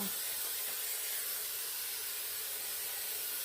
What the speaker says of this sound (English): Especially on this part, you want to spray that really well.